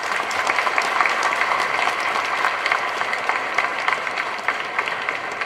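Audience applause at a book launch event for an education foundation, a dense, steady crowd clapping that fills the room at even loudness throughout, with no speech over it.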